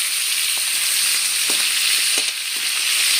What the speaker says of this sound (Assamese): কেৰাহীত তেল গৰম কৰি মাছৰ মূৰটো নিমখ হালধি সানা আছিলে ভাজি ল'লোঁ